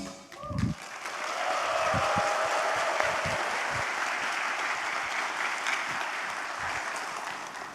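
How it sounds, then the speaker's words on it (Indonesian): An auditorium audience breaks into lively applause to welcome talk-show presenter Andy F. Noya, the clapping rising quickly after a short opening and staying dense and steady throughout. "Berikan tepuk tangan yang meriah."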